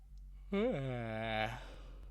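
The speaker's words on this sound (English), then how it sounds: "Wrong time to yawn." A drawn-out yawn in a visual novel, a single voiced breath rising then gliding down in pitch and trailing off over about a second, fairly close and loud over a steady low background hum.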